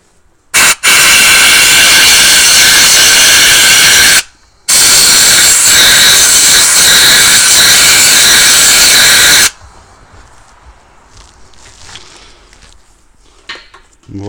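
Compressed air blasts out the glow plug threads on a Mercedes 2.2 CDI diesel engine. A brief hiss is followed by two long, loud, close roaring bursts, with a short gap between them, and then near quiet with faint workshop clatter.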